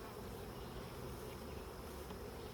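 A honeybee colony being lifted off its hive box, producing a dense, continuous buzz of many bees, steady and even throughout.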